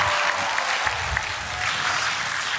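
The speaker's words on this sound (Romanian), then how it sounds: "Aplauze!" Audience applause at a comedy roast gathering, a steady dense wash of many hands clapping throughout, fairly loud and sustained with no voices over it.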